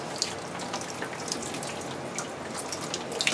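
Water sprays steadily from a leak onto bare basement concrete, a dense continuous hiss with small spattering bursts and no pauses.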